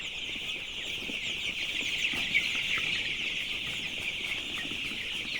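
Chickens on a broiler farm cluck and call continuously, a dense chorus of many birds at close range with one brief louder squawk midway and no talk.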